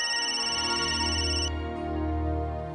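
A telephone ringtone rings steadily in an indoor domestic setting from a Marathi TV serial, a sustained electronic tone that carries on loud and alone with no talking over it.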